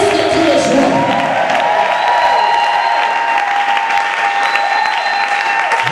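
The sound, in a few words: congregation applauding in church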